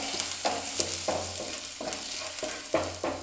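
Finely chopped ginger and garlic fry in hot oil with a low steady sizzle, punctured by regular spoon taps and stirring scrapes about twice a second, close and alone without talk.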